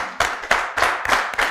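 An audience at a debate on brain drain in Africa gives a brief, sparse round of clapping: a few uneven bursts of claps close together over a second and a half.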